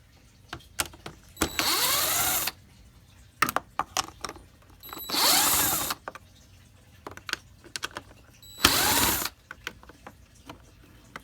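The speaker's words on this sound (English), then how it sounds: "There is 1, 2, 3, 4 screws that you need to unscrew." Socket wrench with an 8mm socket backing out the air filter box screws on a Ford Escape, heard as three bursts of rapid ratcheting clicks separated by short pauses and scattered taps, close and fairly loud with no talking.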